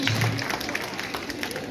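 An audience at the Super Mamie 65 contest in Tarbes applauds a grandmother candidate, a brief scatter of moderate clapping with a voice briefly over the start.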